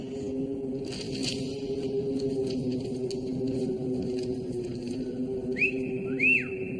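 Faint background murmur with two short rising-and-falling whistles from a person near the end, close by.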